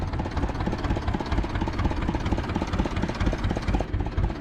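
A low, steady Ursus C-325 tractor engine idle rumbles continuously with a faint rhythmic knock, close and fairly even throughout.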